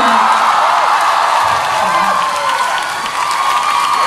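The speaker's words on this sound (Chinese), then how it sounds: "这个时候应该会有欢呼声。" A crowd at a live concert cheers and whoops continuously, a loud, sustained wash of shouting voices and scattered clapping with no pause from start to finish.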